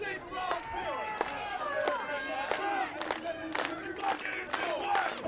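A wrestling crowd at a Juggalo Championship Wrestling show cheers and shouts for Too Tough Tony, with bursts of yelling and whoops rising over a steady roar of the audience throughout.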